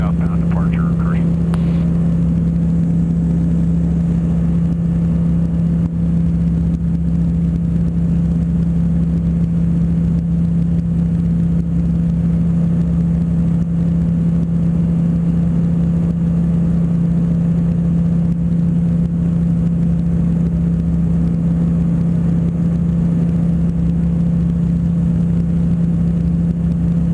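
A Sport Cruiser light aircraft's engine drones loud and steady through a southbound departure climb, a constant close hum heard from inside the cabin, with brief radio chatter and talk over it.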